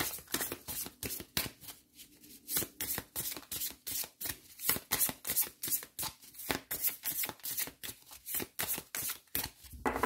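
Tarot cards shuffled by hand in quick repeated riffling bursts, close and fairly loud, a steady papery flutter running throughout with no voices.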